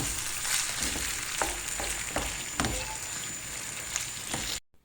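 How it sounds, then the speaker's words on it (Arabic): Crepe filling stirred in a pan: a continuous close sizzle with several scraping strokes of a utensil at irregular intervals, ending abruptly in silence; no one speaks. "غادي نخلط الخليط باش يعطيني هذيك التعليكه"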